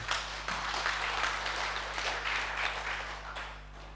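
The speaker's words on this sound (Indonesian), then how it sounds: "Tepuk tangan untuk beliau." A crowd claps steadily in a room at a madrasah launch event, a dense, even patter of many hands continuing for several seconds over a low electrical hum.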